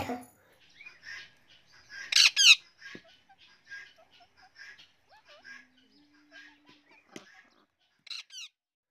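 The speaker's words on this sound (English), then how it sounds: "P for parrot." A parrot gives a few loud, harsh squawks in a short burst, then smaller chirps and calls break in and out, with one more squawk near the end, heard alone without talk.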